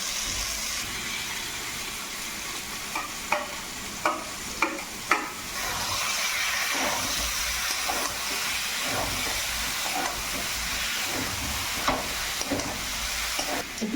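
Pointed gourd, potato and shrimp sauté in oily spice paste for potol chingri, a steady broadband sizzle running throughout with scattered sharp clicks and scrapes of stirring, close and moderately loud, no voices.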